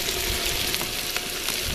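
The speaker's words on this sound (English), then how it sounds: "we've got the onions on the go now, so I'm going to get these to brown a bit" Onions browning in a potjie pot over coals in the bush give a steady, close sizzle and crackle that holds evenly throughout, with faint pops and no talking.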